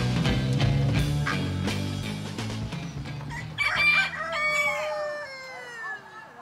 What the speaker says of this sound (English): Are you selling those chickens and all?